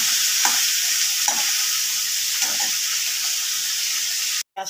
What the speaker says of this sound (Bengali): পেঁয়াজের মধ্যে আমি একটু লবণ দিয়ে দেব। পেঁয়াজটা তাড়াতাড়ি ভাজা হয়ে যাবে।